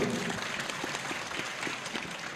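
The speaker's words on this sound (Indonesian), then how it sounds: "Tepuk tangan untuk beliau." Audience applause at a humorous religious question-and-answer lecture, a steady moderate clapping spread evenly across the short moment with no voices over it.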